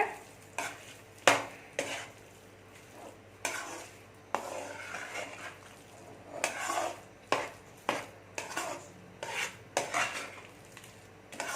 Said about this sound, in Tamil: ஊற்றி நல்லா கிளறி விட்டு சிம்மில் வச்சுருக்கேன் ஸ்டவ்வை.